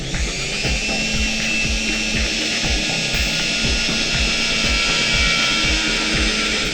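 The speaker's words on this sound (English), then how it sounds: "So we'll drill inside, anywhere down here in the centre would be the go" A power drill bores into a suspect item at a customs border inspection, running loud and steady with rapid rhythmic grinding pulses throughout and no talk.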